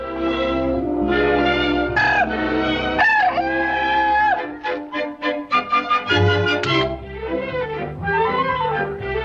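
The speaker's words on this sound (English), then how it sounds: "Rufus, the terrible-tempered rooster." A rooster crows loudly over a busy, harmonic musical backdrop in a 1963 Disney film, its call rising and falling amid a dense orchestral score.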